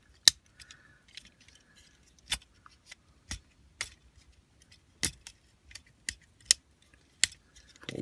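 A plastic Transformers Legends toy figure is handled as its arms are pulled out, giving a series of small, sharp clicks and ratchety snaps spaced irregularly, close and fairly quiet with no talk.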